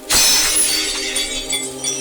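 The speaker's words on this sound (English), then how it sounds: "They break glass." Glass shatters in one loud, sharp crash, followed by a bright tinkling spray of shards that rings on and slowly thins out over about two seconds, with no voices.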